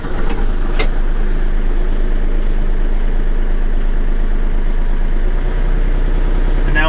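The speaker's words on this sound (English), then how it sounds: "And the tractor should just fire right up." A Bobcat tractor's diesel engine catches after a brief starting burst and settles into a steady, close, even idle that runs unchanged to the end, with no talking.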